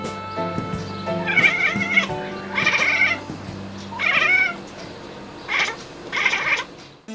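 Scottish breed cat meowing five times in a row, each call drawn out and tonal, fairly loud and close, with short gaps between calls and no talk.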